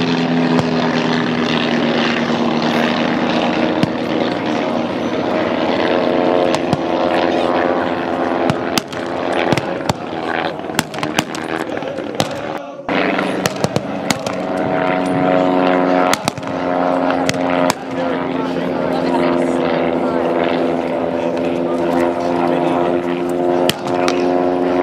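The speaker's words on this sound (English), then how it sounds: "aircraft in the air, folks. Getting quite amongst it there." WWI-era propeller aircraft flying at the Omaka Airfield airshow in New Zealand: a steady, loud droning engine with a constant propeller hum that persists for the whole stretch, with scattered crackles and a brief dip midway.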